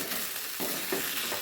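Cauliflower pieces for gobi manchurian sizzle in a pan over a high gas flame as they are stirred to coat, giving a brief, steady frying hiss with soft stirring scrapes and no voices.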